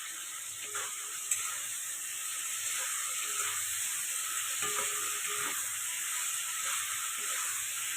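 Fried potato and eggplant are stir-fried in a pan for pomfret curry, a steady sizzling hiss with occasional soft stirring scrapes, close and unbroken throughout.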